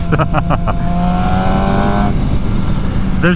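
A super sport motorcycle accelerating at around 50 mph, its engine note rising steadily in pitch beneath strong wind rush, with a person talking over it.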